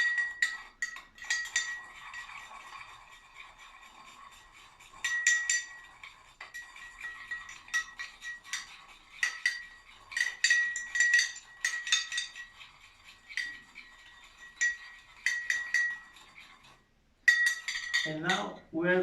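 Vodka sauce ingredients are stirred in a bowl, a metal utensil clinking and scraping against the sides in quick repeated bursts, close and fairly quiet, with short pauses between the rounds of mixing.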